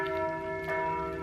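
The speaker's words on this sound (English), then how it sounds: "I wonder what that bell's for." A bell rings in Sweden: a single sustained, steady metallic tone, moderately distant, for just over a second.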